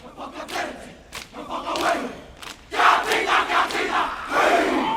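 A school kapa haka group performs a haka at a funeral outdoors, a crowd of voices shouting in rhythmic unison with sharp accented calls and surging chanted phrases, loud and close.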